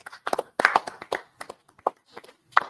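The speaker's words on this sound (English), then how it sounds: "I want to applaud all the brothers and sisters in here who made it down here." A church congregation claps together at a Feast of First Fruits gathering, a burst of uneven hand claps in close clusters that swell and fade over a few seconds, with no voices over it.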